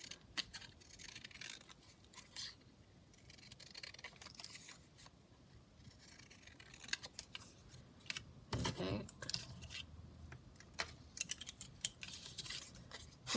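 Scissors cutting round a cigarette card for a junk journal tag, with soft, close snips and crisp clicks in irregular bursts over a quiet background.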